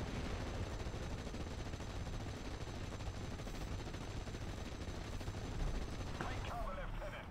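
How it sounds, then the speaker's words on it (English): Gunfire from an anti-tank half-track in the WWII game Steel Division: Normandy 44 crackles in dense, continuous bursts over rumbling battle noise, with a voice talking over it. "this guy comes under fire by an anti-tank half-track"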